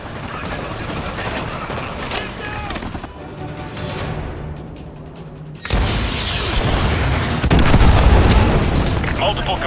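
Missile strikes from AGM missiles in Call of Duty Modern Warfare 2 Remastered: a steady rumble of distant booms and blasts under game noise, swelling into a louder, denser barrage of explosions in the second half.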